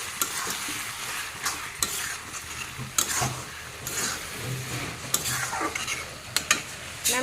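Bottle gourd being stir-fried dry in a pan, with a steady sizzle and repeated scraping stirs of a spatula at close range, sharp clinks punctuating the frying throughout.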